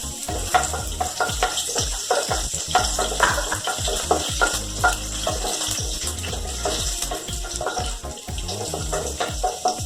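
Chopped garlic fries in a pan for egg bhujia Schezwan rice, giving a steady close sizzle broken by repeated clinks and scrapes of stirring.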